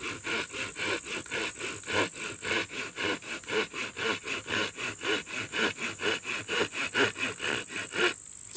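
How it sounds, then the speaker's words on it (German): A hand saw cutting through a hazel stick in a steady back-and-forth rhythm, close and clear, each stroke a rasping pulse, stopping near the end. "Ich fange mal den Sägen an."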